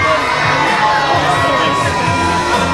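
A crowd at a Gatorland alligator jumping show yells loudly and continuously, a dense wall of shouting voices with children among them and no break.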